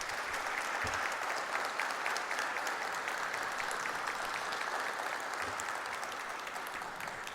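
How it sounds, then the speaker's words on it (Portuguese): Sustained audience applause fills a solemn session honoring physical education teachers at the Espírito Santo legislative assembly, a dense, steady roar of many clapping hands that stays loud throughout and eases only slightly near the end. "gostaria que fosse dada uma salva de palmas"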